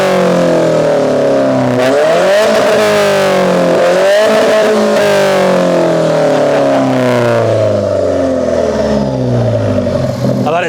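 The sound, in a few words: Alfa Romeo 4C four-cylinder engine revving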